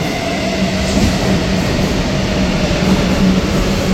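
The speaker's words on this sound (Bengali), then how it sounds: "ওই আরেকটা মেট্রো এলো।" A metro train arrives at Kalighat in Kolkata with a loud, steady rumble and rolling wheel noise that fills four seconds, with no voices.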